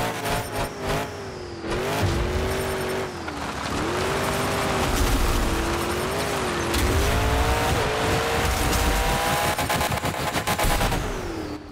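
A monster truck engine roars without a break in Monster Jam Showdown, its revs climbing and dipping through repeated gear-like swells while tires squeal and thuds sound over a dense, loud racing backdrop.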